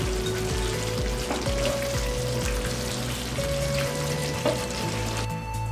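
Chicken masala sizzles steadily in a pan as it is mixed, a continuous close frying hiss with scraping stirs over a low background hum.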